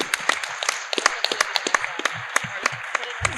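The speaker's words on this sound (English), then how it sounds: "So give yourselves a round of applause." Audience at a Power Morphicon 2022 convention panel applauding, a steady round of sharp, close claps from a modest crowd lasting several seconds.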